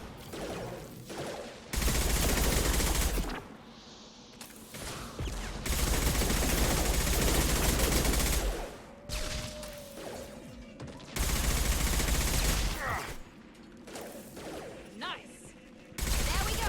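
Enemy gunfire in the video game Mass Effect 2 on Insanity difficulty, loud sustained bursts of rapid automatic shots in three long volleys separated by quieter gaps with softer game sounds.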